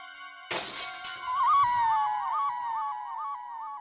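Glass shatters with a loud crash, followed by lingering tinkling and a long wavering ringing tone, with no speech over it.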